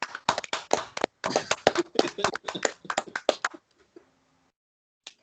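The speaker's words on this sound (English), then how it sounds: "Round of applause." A handful of people in a wrestling podcast studio clap together for about three and a half seconds, sharp and close, then stop; near silence follows with a brief faint sound at the end.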